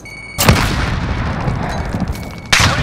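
A frag grenade blast and gunfire in a shooter game, with two sharp loud booms framing a dense stretch of rattling shots and battle noise, close and punchy.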